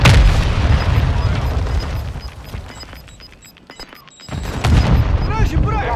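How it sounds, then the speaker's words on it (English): Hostile mortar strike explosions in Warzone 2, loud booming blasts and crackling bursts with a short lull before another heavy impact, a radio voice talking over them. "Hostile mortar strike near your position"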